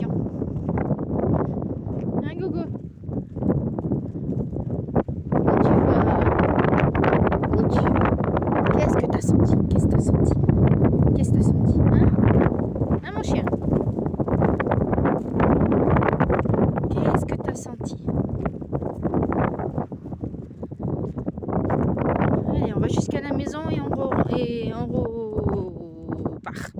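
Strong wind buffets the microphone outdoors, a loud rumbling roar that surges and dips for nearly half a minute while people talk in French over it.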